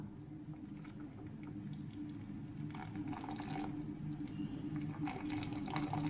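Strained palm jaggery milk pours into colostrum milk pudding in a pan, a soft continuous liquid splash and trickle with faint wet squishing, steady and fairly quiet.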